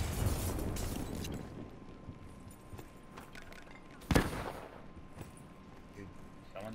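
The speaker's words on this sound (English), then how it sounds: "Grenade!" A grenade goes off in Call of Duty: Black Ops III multiplayer: one sharp, punchy blast stands out partway through, set against a busy bed of game noise and scattered smaller pops.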